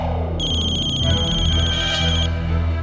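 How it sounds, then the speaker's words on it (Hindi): Telephone ringtone in a household TV serial scene, a steady electronic ringing pattern that runs for about two seconds over a low background music bed, fairly loud and close, with no talking. "बैंकर्स का फोन होगा, मत उठाओ"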